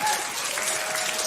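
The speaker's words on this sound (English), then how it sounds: "I assume you're applauding that I'm still standing" An audience applauds, a dense burst of clapping that fills the whole moment loudly and evenly, close and crowded, with no talk over it.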